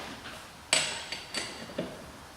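Lug nuts on a car wheel being tightened with a wrench during a tire change, giving one sharp metallic clank followed by three softer clicks spaced about half a second apart, close and fairly quiet with no talking.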